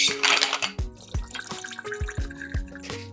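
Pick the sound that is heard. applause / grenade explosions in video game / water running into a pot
water running into a pot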